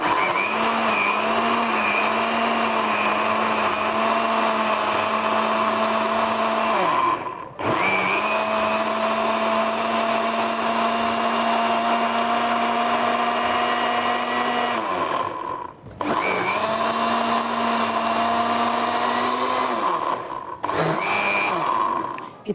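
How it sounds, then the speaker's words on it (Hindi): An electric blender chops two or three green chillies with a little ginger, its motor whirring loudly and steadily in three long runs separated by brief pauses, with no talking. "और हम डालेंगे इसमें 2-3 हरी मिर्च। और इसको आपने चॉपराइज करना है।"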